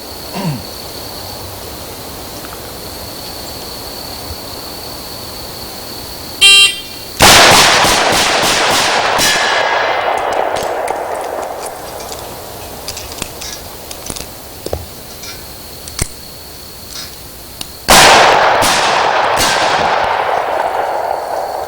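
A timer beep, then sharp revolver shots crack out in a steady series during a timed 10-shot drill, a pause with clicks, then another burst of gunfire.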